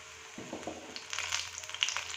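Battered spinach leaves frying in hot oil, a soft crackling sizzle that swells as a fresh piece goes into the pan, quiet and close with no voices.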